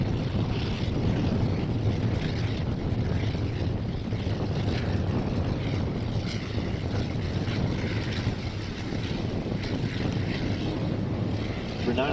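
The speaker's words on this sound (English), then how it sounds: "Very distinctive sound, rotary engine." A vintage rotary-engined night fighter flies at the Shuttleworth airshow with a steady, rough, broadband engine drone, heavily mixed with wind buffeting on the microphone.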